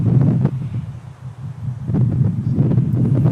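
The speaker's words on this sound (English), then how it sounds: "Still windy." Gusty wind buffets the microphone in low, rumbling bursts, rising and falling over a few seconds with no other clear sounds.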